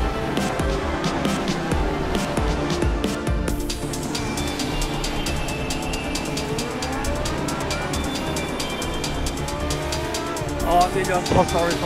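A GT race car slides on the Donington circuit with tyres squealing in long, loud screeches over a roaring engine, while a driver talks over the noise.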